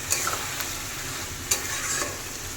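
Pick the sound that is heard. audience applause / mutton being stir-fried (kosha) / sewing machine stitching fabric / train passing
mutton being stir-fried (kosha)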